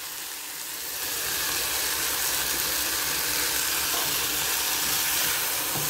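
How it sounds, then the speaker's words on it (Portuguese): Onion sizzles in a hot pan, a steady hissing fry that swells after the first second and then holds loud and even, with no speech. "Ó, como já tá literalmente fritando mesmo, tá vendo?"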